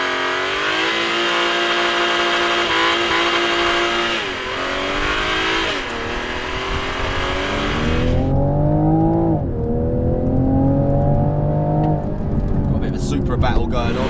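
A new Toyota Supra sports car drives hard on mountain roads, its engine revving loud and close through rising and falling gear pulls, with faint tire noise.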